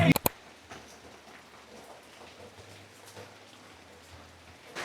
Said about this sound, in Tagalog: magla-lunch pa naman sana ako kaso biglang bumuhos yung ulan